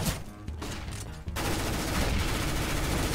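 Gunfire in the Counter-Strike video game: a dense, loud burst of rapid shots that fills the whole clip, with no talk over it.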